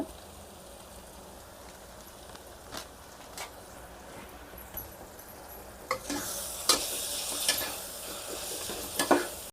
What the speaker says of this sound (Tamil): அது நல்லா வதக்குங்க. சில்லி பவுடர் ஆட் பண்ணிக்கோங்க